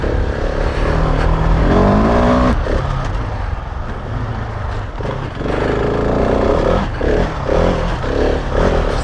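A Husqvarna 701 Enduro motorcycle ridden fast, its loud engine droning steadily with rising and falling revs and gusty wind rush throughout, with no one speaking.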